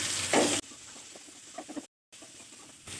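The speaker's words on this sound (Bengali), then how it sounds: "এই তেলে আমি দিয়ে দিচ্ছি দুটো পেঁয়াজ কুচি।" Chopped onions drop into hot mustard oil in a kadai after prawns have been fried. A loud burst of sizzle gives way to quieter crackling and stirring, with a brief dead gap partway through.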